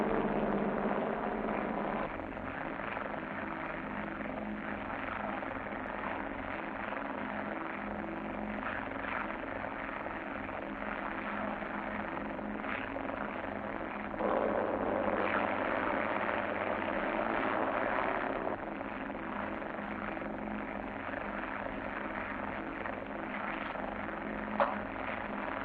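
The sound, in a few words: airlift aircraft landing on radar-guided approach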